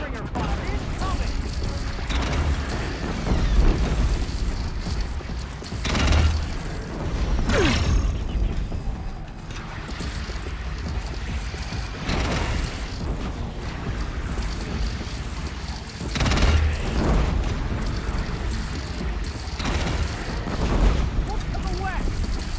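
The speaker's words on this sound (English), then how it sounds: "Deathbringer fire incoming!" Deathbringer cannon fire in the video game Horizon Zero Dawn sounds as repeated heavy booming blasts, with a rumbling mechanical background and a voice speaking at times.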